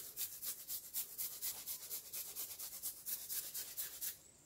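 Fresh ginger is rubbed across a grater in a quick, even run of about twenty rasping strokes, close and soft, stopping abruptly at the end.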